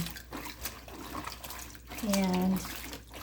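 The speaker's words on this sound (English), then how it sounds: "I just keep massaging them to get the dirt out" Curly mustard greens are washed and rubbed by hand in water in a sink, giving a soft, continuous splashing and trickling with a brief tonal squeak of running water near the end.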